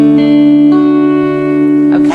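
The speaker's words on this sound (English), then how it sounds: "So just have a go at plucking those strings again." Guitar strings of a chord plucked one after another and left to ring, sustained bright tones layering up loud and close before fading near the end.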